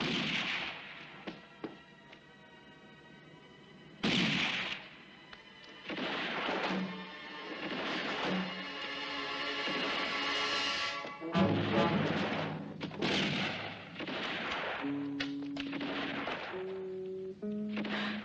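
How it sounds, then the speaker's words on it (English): Gunfire in a western shootout, sharp shots and heavy booms scattered through a dramatic orchestral score, the firing partly buried under the music. "Keep on firing."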